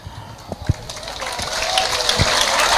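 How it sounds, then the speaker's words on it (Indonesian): Audience applause at an Islamic preacher's talk at a vocational school, starting sparse and swelling into steady, broad clapping that grows louder over a few seconds. "Ojo kesusu tepuk tangan sih."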